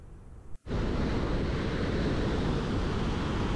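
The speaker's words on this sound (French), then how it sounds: "cet océan Atlantique qui en hiver roule les galets, sur les galets" Atlantic Ocean surf rolls over a pebble beach in winter, a loud, continuous rushing wash that starts after a brief quiet gap and then persists with wind.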